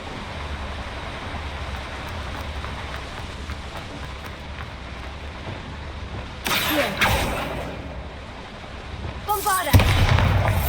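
Bombarda explosion spell in the Hogwarts Legacy wizard game, two loud crackling blasts bursting over a steady rumbling background, the second followed by falling debris.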